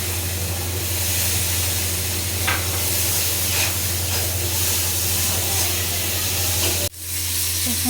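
Chopped tomatoes hitting a hot pan with a little water while cooking fish curry, giving a steady loud sizzle and hiss throughout, with a sharp clatter near the end.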